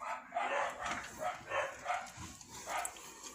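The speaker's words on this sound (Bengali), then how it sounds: "কুকুরগুলো সারাক্ষণ এই করছে" Dogs bark repeatedly outdoors in the evening, a string of about six loud, evenly spaced barks carrying from a short distance.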